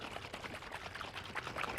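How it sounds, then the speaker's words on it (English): Dijon mustard salad dressing rattles and sloshes as its container is shaken hard, a dense continuous wash of liquid churning close up with no pauses. "just shake the daylights out of it"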